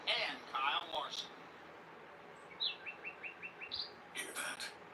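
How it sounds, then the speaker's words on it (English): Small birds chirp in a garden as part of a TV advert: a quick run of short, bright tweets repeating in even succession, surrounded by talking before and after. "The sound of adorable little birds in your garden."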